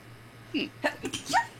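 A single quick sneeze indoors, short and fairly close, with brief vocal sounds trailing after it.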